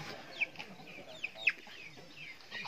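Chickens in a rural yard in Mabini, Pangasinan give a few short, sharp clucks spaced irregularly over a quiet outdoor background, with no one speaking.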